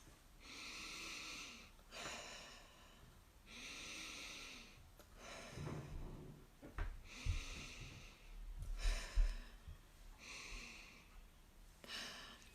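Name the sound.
deep breaths inhaling essential oil scent from hands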